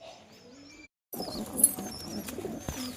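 Domestic pigeons at a home loft give low, soft coos, followed by a brief pause and then busier rustling and fluttering close by, all fairly faint with no talk.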